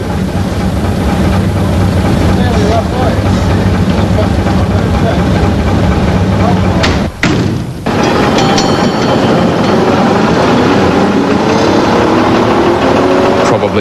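Train on an old Australian railway line that once hauled gold and now carries tourists, with a loud, steady, heavy engine rumble and rolling wagon noise close by that drops out briefly midway and then returns.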